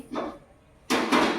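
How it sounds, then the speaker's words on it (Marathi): Two clanking metallic knocks, a softer one then a louder one, as a wok is set down on a gas stove. "कढई ठेवली"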